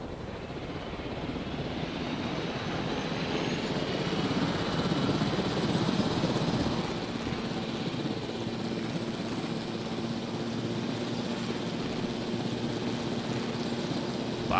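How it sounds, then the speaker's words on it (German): Helicopter in the video game Jurassic World Evolution, a steady, moderately loud rotor and engine drone that holds for about fifteen seconds with slight swells, no voices over it. "Und holen mal den Heli."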